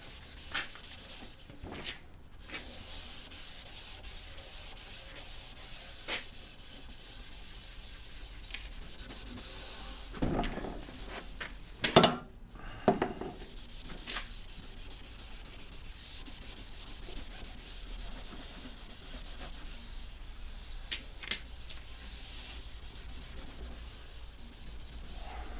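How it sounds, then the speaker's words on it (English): Scotch-Brite pad scrubbing the black frit on a car's rear window, a steady close rubbing and sanding sound with a few louder scuffs in the middle, no voices. "you're going to just clean this area with the Scotch-Brite"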